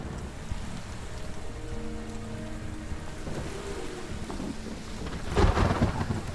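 A thunderstorm rumbles on in Westworld Awakening VR, with steady rain hiss and low rolling thunder and a louder crack near the end, and nobody speaks.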